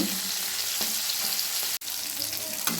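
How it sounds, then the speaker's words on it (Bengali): American puti fish frying in hot oil, Bengali style: a steady, dense sizzle runs throughout, close and even, with one brief dip partway through. "মাছগুলো লাল লাল করে ভেজে নেবো এক পেট ভাজা হয়ে গেছে অপর পেট ভেজে নেব"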